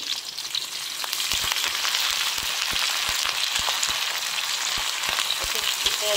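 Curry leaves sizzle in hot oil in a wok while a sea bass curry is cooked, giving a steady, close frying hiss with sharp crackles and pops throughout.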